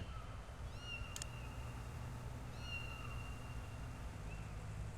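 Kittens meowing in the comedy adventure video game Sam & Max Save The World, with a few faint, high, brief mews heard over a steady low background hum.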